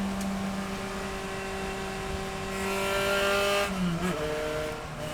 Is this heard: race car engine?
yes